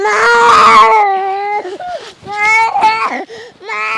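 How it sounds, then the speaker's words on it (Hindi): A girl sobs and wails loudly and close by in uneven, drawn-out cries that break off and resume, with no other voices heard. "कहाँ लड़कियां रोवत बरानी आवाज आवत है"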